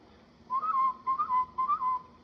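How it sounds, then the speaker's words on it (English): A whistle blown as a signal to summon help in a 1941 Hollywood mystery thriller: three short, shrill warbling blasts in quick succession, clear and fairly close against a quiet background. "Blow a whistle to summon help."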